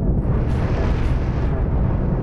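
Ion beam weapons hit an enemy ship in the Cosmoteer space combat game, producing a continuous loud roaring, crackling blast with a rumbling low end.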